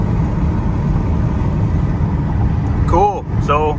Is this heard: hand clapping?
no